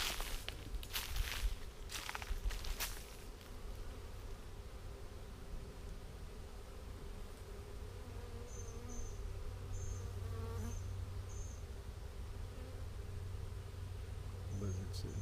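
A large honeybee swarm being caught hums in a steady, continuous drone close by. A few thuds and handling knocks come early on, and occasional higher buzzes from individual bees pass the microphone.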